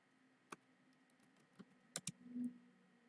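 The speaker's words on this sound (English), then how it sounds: "can't talk and type at the same time apparently." Typing on a computer keyboard during a developer setup session: a few sparse, quiet key clicks with a short cluster of sharper taps, over faint steady room hum and no speech.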